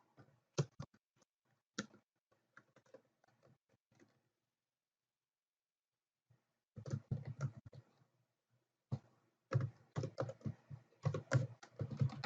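Computer keyboard keys tapped close by while working in Houdini: a few scattered keystrokes, a pause, then quicker bursts of clicky typing.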